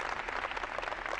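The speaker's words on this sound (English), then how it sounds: "Let's give her a big round of applause." An audience at a Franklin High School clinic applauding guest clinician Michele Smith, heard as a brief, steady burst of dense clapping with no speech over it.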